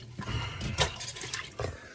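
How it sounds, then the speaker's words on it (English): Water being forced through week-old tea in a filter press, a soft close gurgling and trickling with a few brief swells of splashing, fairly quiet throughout. "I'm forcing the water through it."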